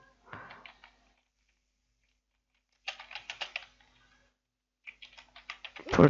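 Short bursts of quick keystrokes on a computer keyboard, close and fairly quiet, separated by silent pauses.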